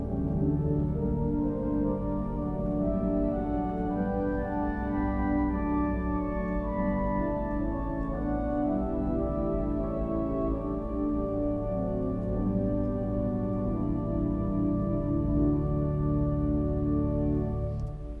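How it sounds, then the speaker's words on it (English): Several stops of a five-manual Austin pipe organ are drawn together with a 16-foot stop, giving a rich, deep, sustained texture that flows through slowly changing chords for a long, steady passage without talk. "All of these combined with the 16-foot sound like this."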